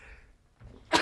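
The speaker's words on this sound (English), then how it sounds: "I'm going to sneeze, I reckon." A single person's sneeze bursts out loud and close at the very end, following a few quiet breaths and faint rustling.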